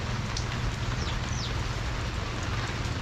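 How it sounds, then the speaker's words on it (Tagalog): Steady, unbroken rain falls close by during a long wet spell over a house and sweet potato garden, a dense continuous hiss with a few scattered drip sounds and no voices. "3 linggo na yata itong walang humpay na ulan nito."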